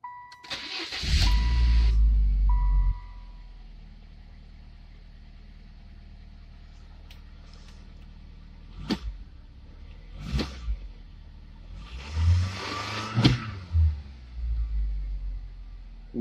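A 1999 Saturn SL2 engine, after head gasket work, cranks and catches with a loud roar, then settles into a low, steady idle, with a few sharp knocks and revs near the end.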